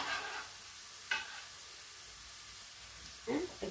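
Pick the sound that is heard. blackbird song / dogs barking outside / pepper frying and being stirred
pepper frying and being stirred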